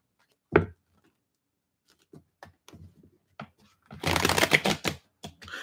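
Scattered taps and flicks of cards are followed by a dense, riffling burst of shuffling, then a few final soft taps.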